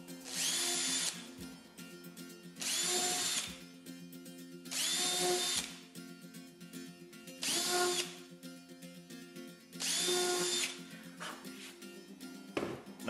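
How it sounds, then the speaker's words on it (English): A small power drill bores pilot holes into a plywood campervan floor, running in five or six separate whining bursts of a few seconds each with short pauses between, close and fairly loud, with no talking. "Get yourself a little drill, do some pilot holes."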